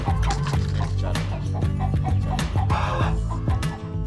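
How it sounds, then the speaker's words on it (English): Loud, busy clucking from several chickens close by, continuous and overlapping, with a dense hum of farmyard noise underneath. "you might have to kick some chickens off your set because they're being a little too loud"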